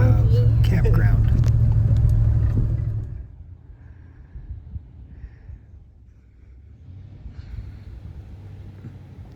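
Truck camper rolling over a rough, bumpy road: a loud low rumble with wind buffeting for about three seconds, then dropping to a quieter, uneven road rumble with faint jolts.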